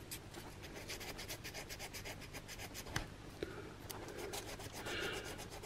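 Rhythmic rubbing and scraping as the metal securing lug of a motor is polished on a workbench, a steady close-up friction sound with light taps throughout.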